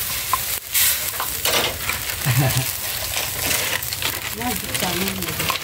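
Pancit noodles tumble into a hot pan and get stirred, giving steady frying sizzle and scraping stir strokes at close range, with a voice speaking intermittently over the cooking.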